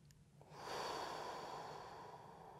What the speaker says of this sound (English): Just breathing in and out of the nose.